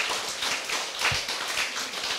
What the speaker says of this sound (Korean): 다시 한번 여러분 박수를 해주시고.